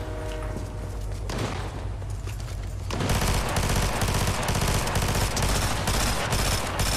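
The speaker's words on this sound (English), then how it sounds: "we got shots close" Nearby gunshots in Fortnite: after a few seconds of quieter game ambience, a loud, dense burst of rapid shots breaks out close by and keeps going to the end.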